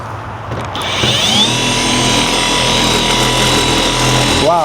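A machine polisher with a foam pad runs on the paint of a 1965 Mini Cooper, spinning up and holding a steady, loud whirring drone for several seconds before the pitch shifts briefly at the end, with no talking.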